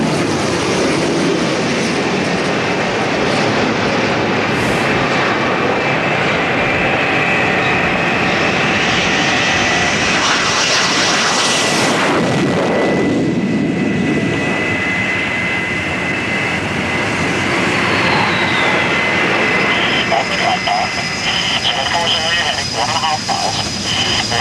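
A jet aircraft approaches an aircraft carrier deck with its hook up, a loud broad engine roar that swells and sweeps past near the middle, with wind noise and someone talking over it.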